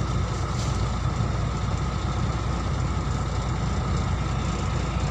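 Truck engine idling in traffic on a Mindanao road, a steady low rumble held close and continuous with no breaks and no talk.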